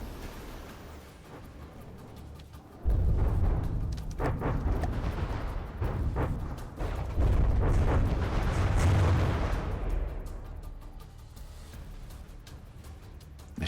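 Heavy booms of explosions and artillery fire from a naval battle in the video game From the Depths, a sudden loud barrage that rumbles on with repeated blasts before easing back to a quieter hum.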